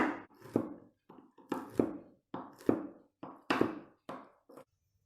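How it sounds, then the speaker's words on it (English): Walnuts being chopped into coarse pieces on a board for chocolate chip cookie dough, heard as a series of close, dull knocking chops in short bursts with brief pauses between them. "Chop the walnuts into coarse pieces."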